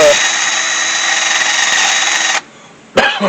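A power drill spins a wire brush, cleaning scale off Ford F250 brake parts, with a loud, steady high-pitched whir, stops abruptly, then briefly starts again.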